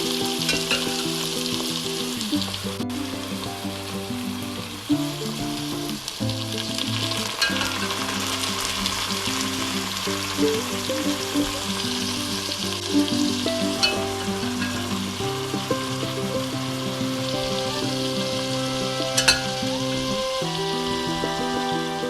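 Meat sizzles as it fries with browned, caramelized onions in a pot for goshth pilau. The frying hiss is steady and close, with occasional stirring and no speech.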